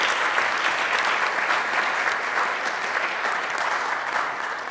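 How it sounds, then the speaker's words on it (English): A steady, dense wash of audience applause at a DNS OARC 27 technical workshop, honouring the program committee, holding at an even loudness throughout without breaks or voices. "I think they all deserve a round of applause for an excellent workshop."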